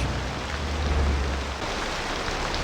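Steady rain falling in the city-building game Cities Skylines, a constant wash of dense rain with a low rumble underneath, no talk.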